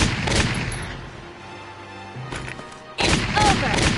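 Gunfire crackles in the video game Valkyria Chronicles: a dense burst of rapid shots, a quieter lull, then another heavy volley close and loud.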